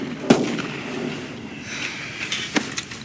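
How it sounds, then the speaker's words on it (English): Sharp gunshots in a movie scene, two distinct cracks about two seconds apart, heard at moderate distance against a dull background rumble. "I heard gunshots."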